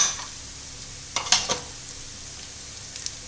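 Pounded ginger frying in a pan under a steady sizzle, with a brief cluster of stirring scrapes and clinks near the middle, close and alone without speech.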